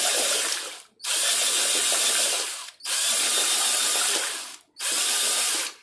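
A power drill whirs steadily in three long bursts with short pauses between, churning a stirrer through thick material, close and loud.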